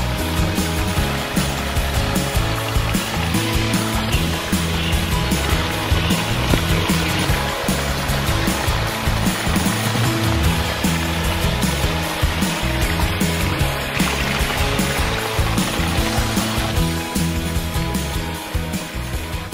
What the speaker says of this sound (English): we're gonna go see apparently a pondless waterfall